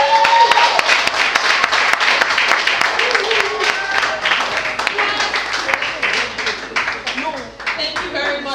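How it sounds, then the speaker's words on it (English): A live audience at a spoken word poetry event in Lagos claps steadily and loudly after a poem. The dense applause carries on through the whole stretch, with voices faintly mixed in. "Please, can we give her a round of applause?"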